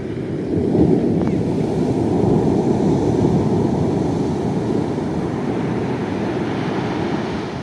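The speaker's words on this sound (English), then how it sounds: "Waves come in like cycles." Steady roar of surf on a beach in winter, broad rushing noise, waves washing continuously, mixed with wind buffeting the microphone; no clear individual breaks.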